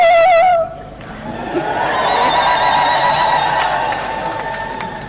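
At a SADC summit, a crowd welcomes Dr. John Pombe Magufuli: a brief high wavering ululation-like call, then a sustained wash of cheering and applause that holds steady and eases slightly toward the end.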